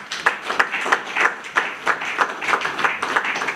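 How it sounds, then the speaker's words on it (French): An indoor audience claps loudly and steadily for Eugène Diomi Noungala, a dense patter of hands with small swells, with no talking over it. "que je demande d'applaudir fortement"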